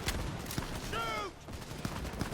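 Gunfire in a Cyberpunk 2077 firefight crackles in a scattered string of sharp shots, fairly faint and mixed with a brief whistling tone in the middle.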